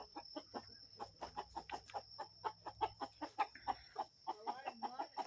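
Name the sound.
chicken clucking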